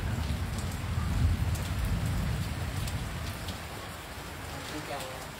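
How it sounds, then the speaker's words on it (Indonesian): Rain falls in a steady broadband hiss, with denser low-end patter early on that eases slightly later, and faint voices talking underneath. "Iya hujan."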